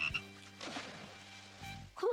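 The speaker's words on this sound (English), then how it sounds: "You are one cool frog, Carmello" A frog croaks in low, buzzing pulses, repeated a few times at close range with a faint sharp call near the end.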